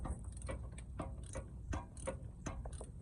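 A flex head ratchet loosens a bolt on the AC compressor of a 2015 Nissan Pathfinder, a series of quiet close mechanical clicks in irregular bursts.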